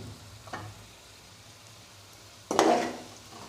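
Tomatoes with salt, red chilli, garam masala, turmeric and black pepper fry in a pan for chicken karahi, with a quiet background hiss, a brief clink, then a sudden loud sizzle that flares up and slowly fades.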